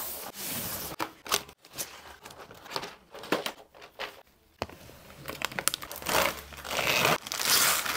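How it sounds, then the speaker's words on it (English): Plastic keycaps are pressed onto a SUGAR65 mechanical keyboard, making irregular clicks and rustly plastic snaps close up, some quick and bunched, others spaced apart. "The last thing we need to do is put the keycaps in"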